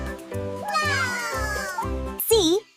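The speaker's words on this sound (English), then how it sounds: "C is for cat." A cat meowing in a short animated alphabet sequence for toddlers, with a rising and falling meow at the end over a light musical backing.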